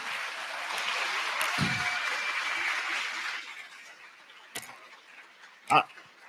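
Audience applause at a live event, steady broadband clapping that holds for about three seconds and then fades, followed by a few isolated sharp sounds near the end.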